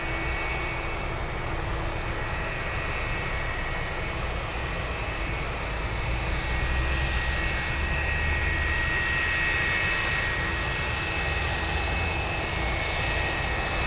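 FedEx DC-10 jet at Anchorage Airport, a steady, fairly loud engine roar with a constant whine, continuous and unbroken, with no voices over it.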